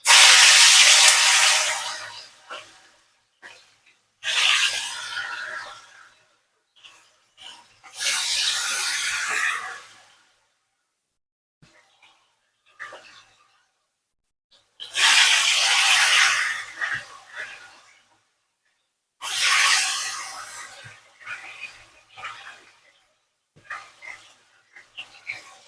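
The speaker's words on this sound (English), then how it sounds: "So now I'm gonna start frying my chicken." Chicken hits a pan with garlic and pepper and fries in loud sizzling bursts, each one fading back to quiet between additions and stirring, with five or six surges in all.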